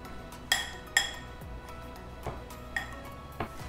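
A spoon clinks against a metal bowl while sattu paratha filling of red pumpkin and mustard oil is mixed, giving five or six sharp, separate taps with a metallic ring, close by and without speech.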